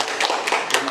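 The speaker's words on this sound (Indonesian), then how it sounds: "Tepuk tangan untuk Bu Filja, keren, dan tepuk tangan untuk semuanya." Clapping from an audience at a lesson study session in a school, a short burst of dense, steady hand claps filling the room.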